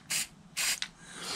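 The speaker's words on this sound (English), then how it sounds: "This is by CRC Marine, and I spray down the pin here." CRC Marine corrosion inhibitor sprayed from an aerosol can onto a metal pin, two close hissing bursts with a short third puff, nearly alone.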